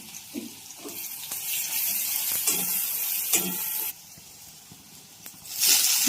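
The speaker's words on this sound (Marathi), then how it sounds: "भाजी थोडीशी धुवून घेतल्या" Vegetables rinsed under a running kitchen tap, a steady hiss of flowing water broken by brief splashes and clatters of handling, with no talking.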